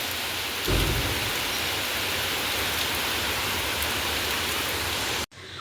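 Continuous rain pours onto a flooded courtyard in a dense, steady roar, with a deep thud of thunder early on and a brief break just before the end.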